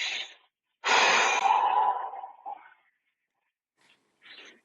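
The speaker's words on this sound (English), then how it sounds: "let's just take a deep breath in and exhale" A person takes a deep breath in and exhales slowly, heard up close: a short breath first, then a long, airy exhale that fades out, followed by a faint final breath.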